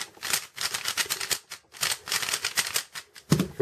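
A Dayan Guhong V2 speed cube is turned in a quick run of crisp, smooth clicking clacks, dense bursts with brief pauses, close and alone.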